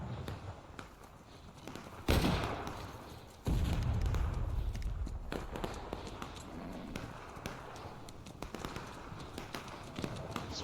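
Gunfire in a Civil War battle game set at a railroad cut: scattered musket shots crack near and far with a couple of heavier close bangs, over a busy battlefield ambience and faint shouting.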